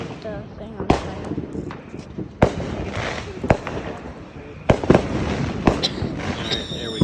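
Fourth of July fireworks bursting outdoors, with loud sharp booms at irregular intervals and crackling in between, while people talk in the background.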